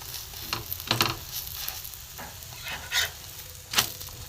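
Nearby pan-frying of a chicken roll, cooked on both sides, keeps up a soft hiss punctuated by several short scraping bursts as it is moved and flipped.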